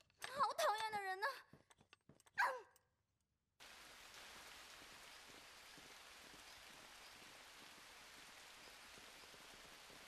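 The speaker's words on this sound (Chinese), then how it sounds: "我这边下大雨，" Heavy rain pours steadily as a continuous broadband hiss after a few seconds of talking and a brief silence, then runs on alone.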